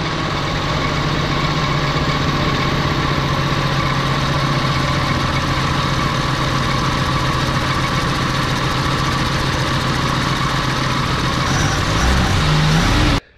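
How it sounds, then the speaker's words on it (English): Engine of a 1978 Jeep CJ-5, with the belt loosened so it won't turn the smog pump, runs loud and steady close by in a continuous rumbling drone, then cuts off abruptly at the end. "So I'm gonna try starting it like that so it won't turn the smog pump."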